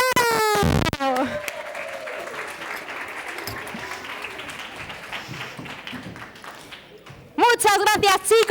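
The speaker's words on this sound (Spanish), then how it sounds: "Y un aplauso" Audience applause for the gold medal winners at a children's science event, a sustained wave of clapping that runs for several seconds between brief bursts of talk from a presenter at the start and end.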